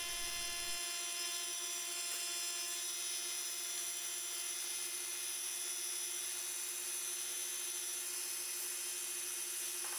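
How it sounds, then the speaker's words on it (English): A vacuum pump runs steadily, drawing air out of a sealed vacuum bag over a carbon fiber sheet layup for a firewall; a constant, even mechanical whine and hum holds throughout with no talk. "we're gonna switch the vacuum pump on and the bag will pull down and start to drag the air out of the bag"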